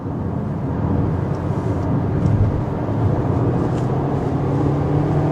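A 2026 Kia Seltos EX under hard acceleration up a highway on-ramp near 45 mph gives a steady, loud engine and road roar that holds evenly throughout, with no talking.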